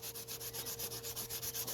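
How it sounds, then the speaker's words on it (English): Painted emblem rubbed with 320-grit paper on an old sanding block, giving a close, quiet, steady back-and-forth scrape in an even rhythm of about seven strokes per second. "just gonna knock this down with some 320. Got this old sanding block."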